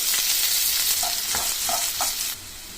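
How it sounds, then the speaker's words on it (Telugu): Onion pieces frying in hot oil with urad dal and cumin, a close, steady sizzle with several short scraping stirs of a spoon partway through, the hiss easing slightly near the end. "ఇప్పుడు సన్నగా కట్ చేసి పెట్టుకున్న ఆనియన్ ముక్కలు వేసుకోవాలి"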